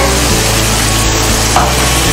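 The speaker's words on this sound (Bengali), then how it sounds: "তো বন্ধুরা চিকেনটার দিকে ভাজা শুরু হয়ে গেছে।" Chicken pieces fry in oil for Chinese-style chicken Manchurian, a loud, close, continuous sizzle with no pauses and a few faint scrapes under it.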